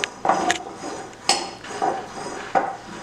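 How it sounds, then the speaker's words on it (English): A spoon mixes a tomato, jalapeno and cilantro topping for fish tacos in a bowl, giving a few distinct, close clinks and scrapes spaced out over a few seconds. "Just mix it together."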